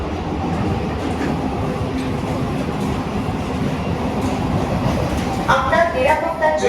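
A Sealdah-Kalyani AC local train runs through Jagaddal station without stopping, heard from on board as a steady loud rumble with wheel clatter and a brief rise in screech near the end. A voice talks faintly under it.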